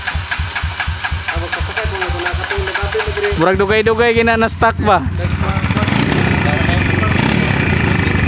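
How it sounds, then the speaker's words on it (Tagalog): A motorcycle engine idles with a steady, throbbing putter, close by. Someone speaks briefly over it as the idle roughens and rises slightly. "Da pang trail kay ni nga motor oh."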